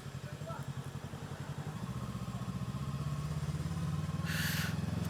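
A motorcycle engine idling with a steady, rapid low thumping pulse that grows slightly louder toward the end, heard up close with a burst of hiss near the finish.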